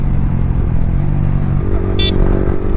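A motorcycle fitted with an Akrapovic R9 exhaust and no dB killer rumbles loudly and steadily while riding, the engine note rising slightly, with a brief higher-pitched tone near the end.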